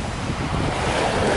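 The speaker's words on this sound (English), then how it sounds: "I just love being by the ocean so much." Ocean waves surge onto the shore with loud, close surf and wind buffeting the microphone, a brief rushing wash that builds toward the end, with no talking.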